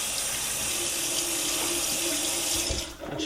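Tap water runs steadily into a sink, rinsing out the cavity of a raw turkey with the giblets removed, a loud continuous splashing rush that eases off near the end.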